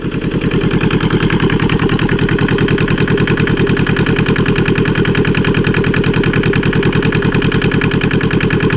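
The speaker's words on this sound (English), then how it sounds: "It being a diesel, it doesn't need a power to run" A Lister Petter diesel engine runs at a steady, loud, close idle, with a fast, even chugging thump throughout and no talking.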